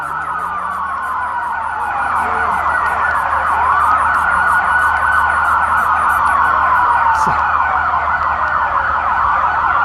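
Loud, piercing emergency vehicle sirens sweep up and down continuously on a Seattle street on election night, close and unbroken throughout, with no voices over them.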